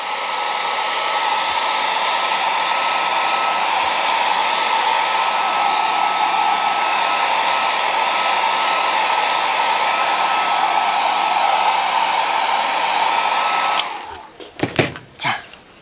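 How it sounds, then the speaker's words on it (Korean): A hair dryer blows steadily and loudly for about fourteen seconds as it dries a layer of painted gesso, then shuts off, leaving a few soft handling knocks. "그러면 드라이기로 한 번 더 해야 되겠죠?"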